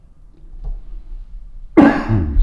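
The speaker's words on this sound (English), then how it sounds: "Is that because I coughed?" A person gives one sharp, close cough after a quiet stretch of faint background murmur, followed by a short rasping tail, inside an old leper hospital building.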